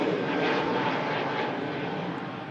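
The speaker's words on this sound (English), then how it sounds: "Lovely sound there from the Lufthansa A321neo heading back home" Lufthansa Airbus A321neo jet engines roar steadily at Manchester Airport, a loud sustained broadband rush that holds level and slowly eases toward the end, with no voices over it.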